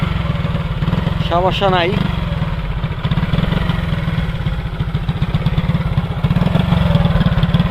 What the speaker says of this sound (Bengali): প্রথমে এই বাইকটা স্টার্ট দাও